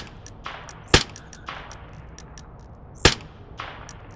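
Rifle fired in a VR shooting game using a physical rifle stock: a few sharp, separate shots spaced well apart, each ringing briefly with a metallic clang, plus fainter impact sounds between them.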